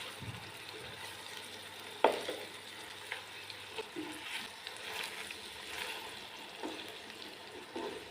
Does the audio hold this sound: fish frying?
yes